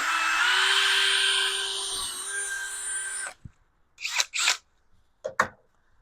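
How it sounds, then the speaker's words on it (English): A power drill whines loudly for about three seconds, its pitch shifting slightly, then stops; a few short high-pitched whirs follow. "So you're gonna hear the drill for the first time."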